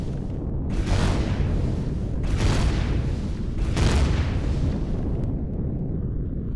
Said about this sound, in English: Sentry gun turrets.